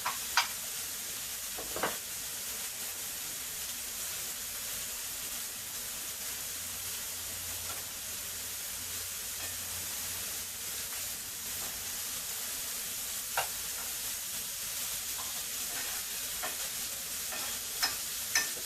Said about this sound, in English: So my butter done melted. Let's put my asparagus in.